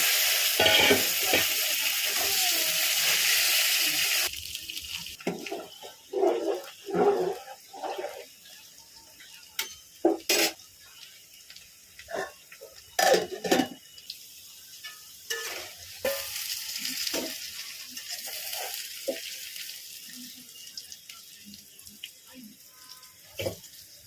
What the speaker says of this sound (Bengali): এবার আলুটা ভেজে নিচ্ছি